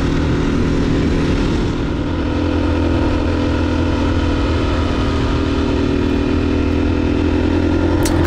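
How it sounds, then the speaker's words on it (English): A stock 2021 KTM 500 EXCF dual-sport motorcycle on a trail ride in Southern Oregon, its engine holding a loud, steady, close droning rumble for the whole stretch with no talking. "riding the 2021 KTM 500 EXCF, pretty much bone stock"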